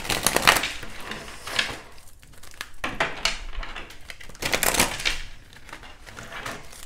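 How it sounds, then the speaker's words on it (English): A deck of tarot cards being shuffled by hand at close range, bursts of crisp riffling and slapping in uneven clusters with brief quieter gaps between them, no talking over the sound. "Let's get a good shuffle."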